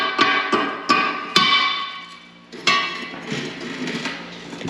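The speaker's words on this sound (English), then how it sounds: "Hit it with the hammer" A hammer taps on a fan blade, giving several sharp metallic clinks with ringing tails, then a louder clang followed by rattling and clattering.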